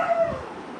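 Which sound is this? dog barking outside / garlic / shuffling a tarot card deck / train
dog barking outside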